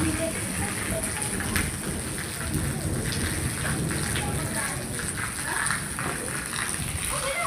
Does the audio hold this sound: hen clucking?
no